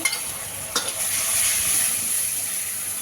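Onions browned in oil sizzle as a paste of cumin, coriander, garlic and ginger goes in for a chital fish curry, with a couple of stirring clatters early on, then a steady, fairly loud frying hiss.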